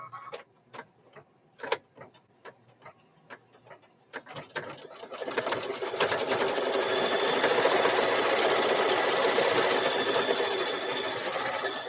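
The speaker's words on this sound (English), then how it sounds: "Now we're going to start stitching." Embroidery sewing machine stitching freestanding lace, starting with a few separate loud clicks before settling into a continuous, fast whirring stitch rhythm, close up.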